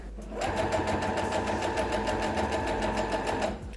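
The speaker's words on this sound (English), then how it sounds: "you sew it, and then you refold it and you sew it. So it's like a double fold hem. Just a straight stitch." Sewing machine running a straight stitch along a double fold hem on a thrifted dress being turned into a jumpsuit, a steady, fast mechanical whir and rapid needle clatter that starts, runs evenly for about three seconds and stops.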